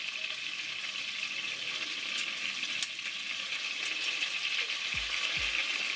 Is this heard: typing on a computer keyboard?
no